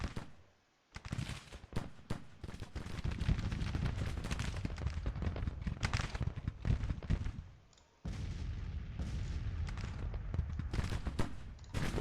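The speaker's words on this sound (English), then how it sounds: "artillery." Cannon fire booms repeatedly across a Civil War battlefield in Grand Tactician, 1863, heavy overlapping blasts with crackling rifle fire, loud and sustained apart from a short pause near the start and another later.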